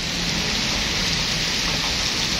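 Heavy rain pours steadily beneath the Arjosari flyover in Malang, a dense, continuous hiss of falling water that stays loud and unbroken throughout with no voices.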